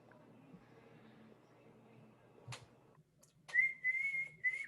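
A whistle is blown several times in quick succession, a sustained shrill tone that cuts in loud over background chatter and studio noise.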